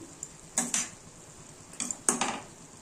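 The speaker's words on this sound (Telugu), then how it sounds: "సో దీనిలో ఇప్పుడు కొంచెం పసుపు, కొంచెం కారం వేసుకొని బాగా కలుపుకోవాలి." A metal spoon clinks and scrapes against a pan while turmeric and chili powder are mixed into a carrot curry, in two short bursts of stirring over a faint sizzle, close and quiet.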